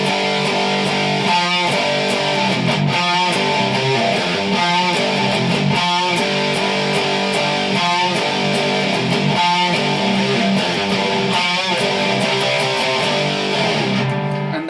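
A loud, heavily distorted electric guitar tuned to drop C plays the opening riff of a song as rhythmic chugging figures that repeat steadily, with no voice.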